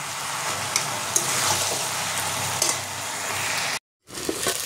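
Cabbage curry with fish head being stirred in a pan, a steady broadband sizzle with occasional scraping clinks, close and fairly loud, broken by a brief silent gap near the end.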